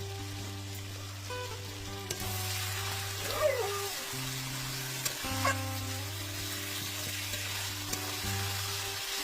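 Mutton pieces fry in a spice paste for mutton kasha, sizzling continuously while a spoon stirs and scrapes the pan. A low steady hum runs underneath throughout, and no one speaks.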